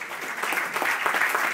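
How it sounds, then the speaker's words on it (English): Large audience applauding at an emceed event honoring sponsors such as cancer care centers and spine consultants, a dense, steady wash of clapping at close range, sustained without pause and with no voices over it. "let's give them a huge round of applause"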